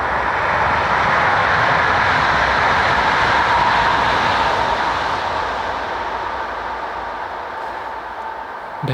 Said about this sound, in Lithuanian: Keistas aš, kad turiu vietą, kur traukiniai vis pravažiuoja.